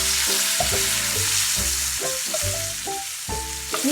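A steak basting in butter sizzles in a pan with a loud, crackling fry close by. Repeated spoon strokes scrape and splash through the sizzle in an uneven rhythm, and no one speaks.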